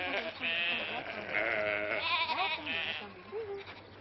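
Ewes on a small farm bleating repeatedly, several wavering calls overlapping close by for a few seconds with a low steady background hum.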